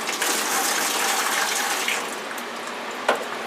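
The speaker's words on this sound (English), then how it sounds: "you can see that the housing released. Water went into the bucket." Water gushes steadily from a released whole-home water filter housing into a bucket for a few seconds, a broad splashing rush that eases slightly before a brief louder splash near the end.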